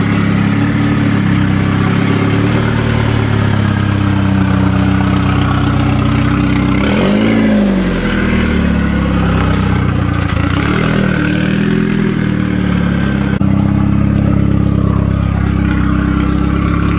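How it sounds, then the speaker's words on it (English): A very loud Mitsubishi Evo engine runs steadily throughout, a deep rumbling idle close by, with a brief rev swell midway and a steady throaty drone, no voices over it. "we don't want to upset the neighbors with this very loud car"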